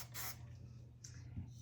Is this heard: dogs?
no